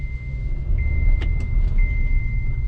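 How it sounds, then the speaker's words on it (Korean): Kia K3 used car on a short test drive: a steady low engine rumble and road noise inside the cabin, with a faint thin whine and a few brief clicks. "여기서만 제가 한번 시운전만 잠깐만 좀 해보면 될 것 같아요"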